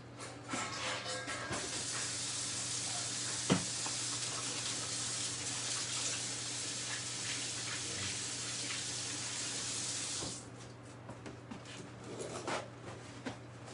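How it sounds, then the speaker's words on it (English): A tap runs steadily as hands are washed under it, a continuous close hiss of water with small splashes, then shuts off and leaves a quiet room with light handling sounds. "I'm gonna quickly wash my hands"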